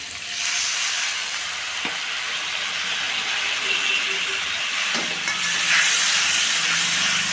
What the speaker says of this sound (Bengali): তারপরে তোমার দেবো একটুখানি গরম জল দিয়ে দিই।